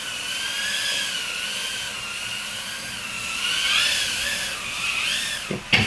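A TinyWhoop micro FPV drone flying indoors, its tiny propellers giving a close, high-pitched whine that rises and falls sharply with throttle bursts before a brief knock at the end.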